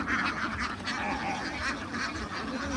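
Ducks on a duck farm quack in a dense, continuous chorus, loud and close, with many overlapping calls and no pause throughout.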